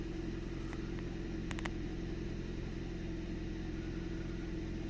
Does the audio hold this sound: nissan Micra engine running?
yes